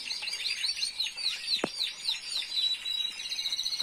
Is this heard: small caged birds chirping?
yes